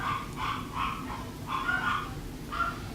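Pet dogs bark repeatedly in a home, a series of sharp yaps and barks at moderate distance with brief gaps between bursts and no talking over them.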